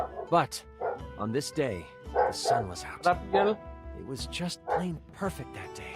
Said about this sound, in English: Apologies for my dog outside there.